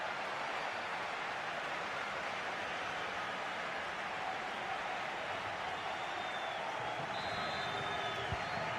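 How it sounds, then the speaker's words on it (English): A stadium crowd in the eFootball video game gives a steady, dense roar that holds at an even level for the whole stretch, with a brief higher tone rising near the end. "just listen to the crowd"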